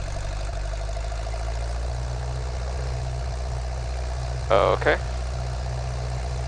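Citabria 7ECA airplane engine running at 1800 rpm: a steady, loud, low drone throughout the cockpit, with a brief spoken word near the end over the engine.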